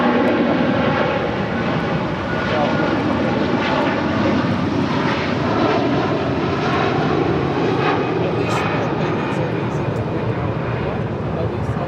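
Loud, steady jet engine roar from a Boeing 757 beginning to taxi at LAX, a continuous broadband rumble and whine heard up close, with faint radio chatter in the background.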